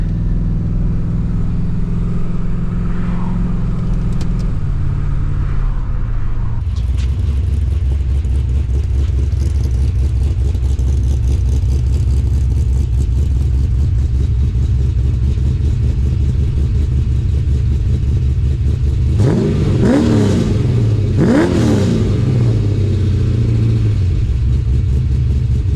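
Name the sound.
Holden VN Commodore LS1 V8 car engine driving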